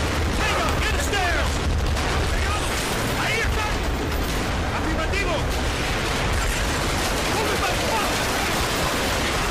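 Dense, loud gunfire and explosions in the Call of Duty: Black Ops campaign, a continuous barrage of shots and blasts filling the mix, with a voice talking over the combat.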